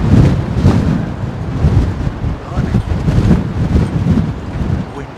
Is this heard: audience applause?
no